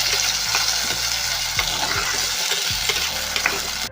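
Onion and tomato frying in a pan while being stirred: a loud continuous sizzle with repeated scraping strokes of a spoon, close and without talk.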